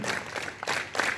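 Students at a school morning assembly clap together, giving a few soft, somewhat spread group claps at moderate distance, with no talking.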